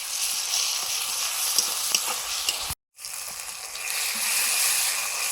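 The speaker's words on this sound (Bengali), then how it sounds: "পেঁয়াজটা ভাজা হয়ে গেছে এবারে দিচ্ছি রসুন বাটা" Garlic paste dropped into onions frying in hot oil for a Bengali fish curry, giving a steady, loud broadband sizzle with faint stirring scrapes; the sizzle cuts out briefly midway, then resumes just as strong.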